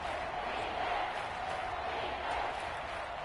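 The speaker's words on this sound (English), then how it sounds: "That just means this crowd's going to get even louder" Stadium crowd noise at a football match in a video game, a continuous broad roar of many voices that swells slightly in waves, with a commentator's voice faintly underneath.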